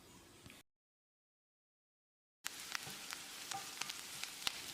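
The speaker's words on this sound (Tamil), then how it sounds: "வெங்காயத்தை கண்ணாடி பதத்துக்கு வதக்கிடலாம்." Sliced onion and curry leaves sauté in a pan with a gentle sizzle and light stirring clicks. The sound drops to total silence for about two seconds, then resumes, faint and close.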